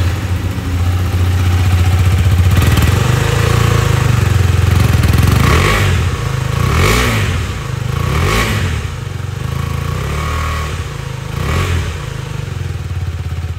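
A KTM Duke 250, a 250 cc naked sport motorcycle, runs loud and close with a steady engine drone, rising into several sharp revs before settling back to idle.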